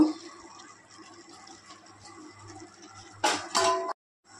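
Spoon stirring saffron-soaked milk in a bowl during omelette rice cooking, soft scraping and stirring followed by a couple of sharp metallic clinks against the bowl, then silence.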